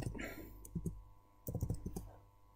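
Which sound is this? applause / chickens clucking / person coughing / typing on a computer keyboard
typing on a computer keyboard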